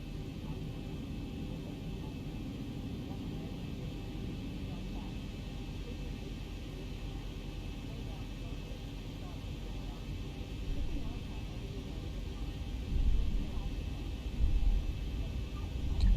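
A Zibo Mod Boeing 737 airliner taxis in a flight simulator game, a steady, even engine rumble and broadband hiss continuing throughout, swelling slightly near the end.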